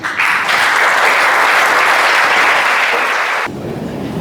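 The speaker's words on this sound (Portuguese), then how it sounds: "Ana Albergaria, uma salva de palmas." An audience claps loudly and steadily for a poetry reader at a book launch, a dense continuous applause that stops abruptly near the end, leaving a quieter room murmur.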